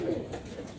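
A pigeon coos briefly and close by, held out in sunlight, with a short low call near the start over light background noise.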